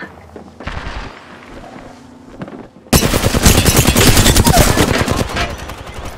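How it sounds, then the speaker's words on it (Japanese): Rapid automatic gunfire in the video game Apex Legends erupts loud and dense after a quieter stretch of game sounds, sustained bursts continuing to the end. "撃たれています。"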